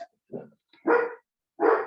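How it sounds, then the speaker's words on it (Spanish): Small dogs in a home let out three short barks, the later two louder and sharper, with brief silences between them and no talk over them. "ustedes disculpen mis perritos, saben que tengo muchos perritos"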